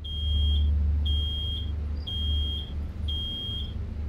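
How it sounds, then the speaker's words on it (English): An alarm in the Road 96 video game beeps in four long, evenly spaced high-pitched tones over a steady low rumble, with no talking. "Oh no! Something's beeping!"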